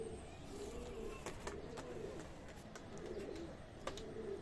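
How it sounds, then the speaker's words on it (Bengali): A pair of teddy pigeons coos in soft, repeated low calls close by, with a steady background hum and faint chirps around them. "ভাই এক জোড়া টেডি কবুতর আছে"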